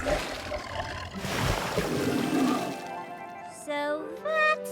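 A deep, rumbling roar from a large creature near water, a cartoon tri-horned bunyip, followed by higher, wavering cries.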